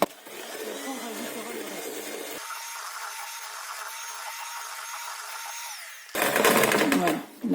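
Chocolate mousse mixture, warm melted chocolate folded into cream, beaten quickly with an electric mixer whose steady whirring drone runs throughout, swelling louder and harsher near the end, while a person talks over it.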